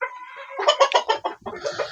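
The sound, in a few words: chickens clucking on a poultry farm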